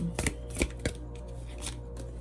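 Oracle cards from a Heal Yourself deck being shuffled, a few soft riffling bursts and flicks spaced out over a quiet room with faint background hum.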